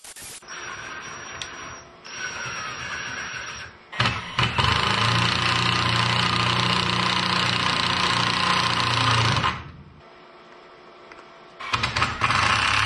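A power drill drilling holes to attach a bracket to a stool's inner ring whirs loudly for several seconds, stopping and restarting in short bursts, with quieter mechanical hum between runs.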